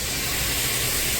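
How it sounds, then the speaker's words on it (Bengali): Water poured into hot masala with Kashmiri red chilli powder in a pan for Kolkata-style chicken biryani, a loud steady steamy hiss filling the whole moment. "হালকা জল দিচ্ছি, নিচেটা একটু লেগে যাচ্ছে তাই।"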